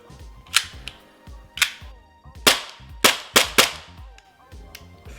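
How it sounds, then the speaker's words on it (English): An ASG/KWA M93R II airsoft pistol fires six sharp single shots at irregular intervals, loud and close, with faint background noise between them. "let's try the gun. Single fire."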